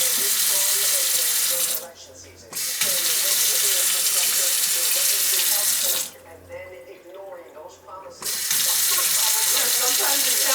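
A kitchen tap runs in a steady, loud gush, cutting off briefly twice before starting again, with water pipes humming.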